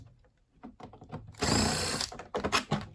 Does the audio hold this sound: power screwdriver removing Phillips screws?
yes